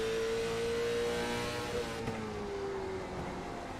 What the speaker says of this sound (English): you listen to the way she hits the throttle